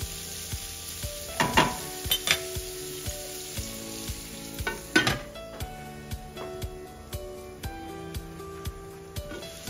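Pork sizzles as it fries in its own rendered fat while cooking Ilocano igado, a steady crackling hiss with occasional metallic clinks of a utensil against the pan.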